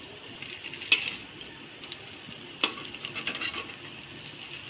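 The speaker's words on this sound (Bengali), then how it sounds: "একটু লাল করে ভেজে নিই।" Bitter gourd fritters sizzling in hot oil in a pan as they are turned, a steady close crackle and hiss punctuated by a couple of sharp clicks from the utensil against the pan.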